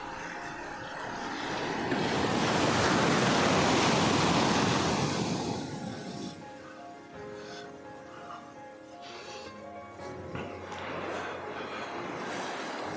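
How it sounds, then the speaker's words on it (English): Ocean waves rolling in with the incoming tide on a calm day, a broad surf wash that swells to a loud peak and then recedes into a softer, steady rush with some wind noise. "Now you can see the tide coming in"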